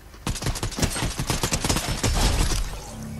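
Rapid, dense Fortnite gunfire, a close, loud burst of repeated shots with shattering impacts running continuously for about three seconds, no talk over it.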